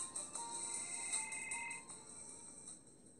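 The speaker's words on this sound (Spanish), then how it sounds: "Me suena el teléfono" A phone ringtone in the game Is it Love? Gabriel plays as a bright, repeating electronic melody, faint and on its own, with no voices over it.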